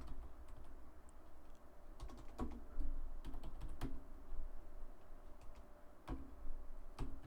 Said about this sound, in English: I didn't do a very good job with my typing.